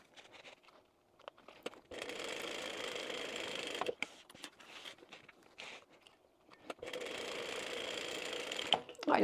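A sewing machine stitches a quilted bag in close, buzzing runs of rapid mechanical whirring, stopping and starting several times with short clicks and handling noises between bursts.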